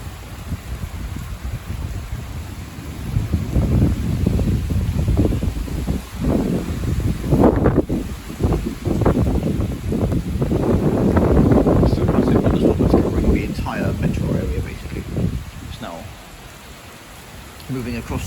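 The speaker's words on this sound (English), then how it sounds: "Lots of wind underneath this gust front." Strong wind from a thunderstorm gust front in Florida roars steadily and loudly, rising and falling in long surging gusts that batter the microphone, with rustling debris and the first rain mixed in.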